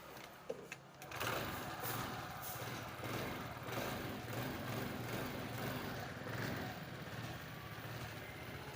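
A small automatic scooter engine starts after a few clicks and settles into a steady, buzzing idle that runs on without pause.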